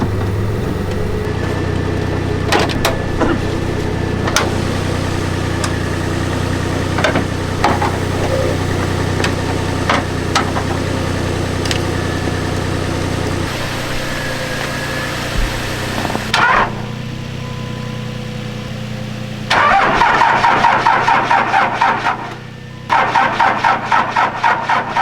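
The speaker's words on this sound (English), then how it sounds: "I'll probably have to boost that truck, get it started" An old, worn-out beater truck engine idles with a rough, steady drone, breaking off and restarting a few times with louder surges near the end.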